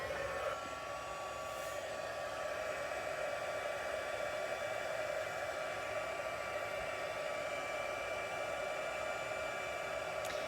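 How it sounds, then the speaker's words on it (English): Craft heat tool blowing continuously for heat embossing, a steady whirring, airy hum like a hair dryer, close and constant with no talking. "I'll get the heat tool out and we will get that embossed."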